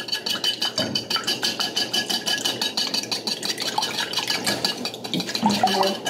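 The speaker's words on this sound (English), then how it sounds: "after we add it, we're just going to beat it lightly. We're doing quick circular motions, getting that yolk broke." A lightly beaten egg whisked in quick circular motions, a steady, rapid rhythmic clatter of utensil against bowl that runs continuously at close range.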